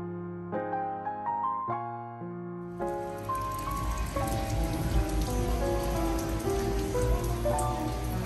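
Steady rain falls and drums on a surface, starting about three seconds in as a dense continuous patter; before that, plucked musical tones ring out and continue faintly beneath the downpour.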